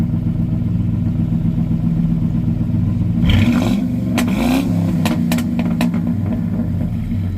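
A car engine idles with a low, steady rumble, then revs up sharply a few times, the exhaust growling and popping in short bursts.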